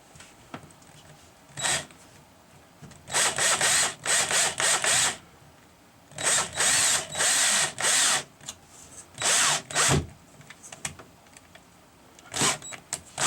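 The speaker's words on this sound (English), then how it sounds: "Then we'll throw a screw to hold it in place." A power drill drives a screw into a light switch box in a wall, with repeated short bursts of whirring separated by pauses, close and fairly loud.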